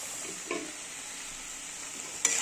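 A spoon scrapes around a wok while cauliflower-stalk curry sizzles softly underneath, with chopped coriander leaves being stirred in and a couple of sharper clanks of metal on metal.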